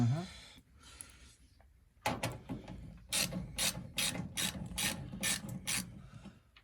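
A socket-set ratchet works on a Zanussi TD200 auto-reverse tumble dryer with a dead fan motor. After a quiet start, bursts of close, sharp ratchet clicks follow in quick rhythmic runs.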